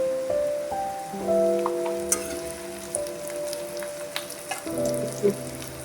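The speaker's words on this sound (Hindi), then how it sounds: "अब हम इसमें 1 टीस्पून के करीब जीरा डाल देंगे।" About a teaspoon of cumin seeds dropped into hot oil while cooking spicy okra, giving a soft, steady crackling sizzle with scattered pops, fairly quiet and close, under faint background tones.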